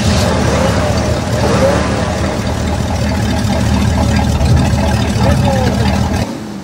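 Vintage cars and motorcycles at a spring motor show and swap meet rumble steadily with loud, close engine noise throughout, with crowd voices mixed in until the sound drops away at the end.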